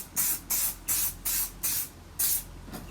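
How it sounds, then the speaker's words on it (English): Boots ultimate hold hairspray sprayed in six short, even bursts of close, loud hissing mist, each about a third of a second with brief gaps, then a fainter seventh puff at the end. "This is just Boots hairspray, ultimate hold."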